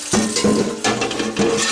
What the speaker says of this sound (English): Rinse these off.